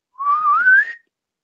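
A person imitates a loud, deep whistle, a single smooth whistled note about a second long that rises gradually in pitch, heard alone.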